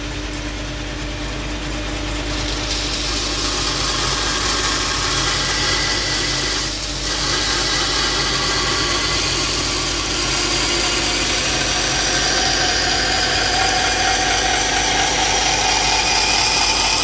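A Martindale No 2 golok gets a new edge on a grinder in a workshop. The grinding sounds as a continuous, loud, broadband whir that runs unbroken for the whole stretch, dipping only briefly, with no talking.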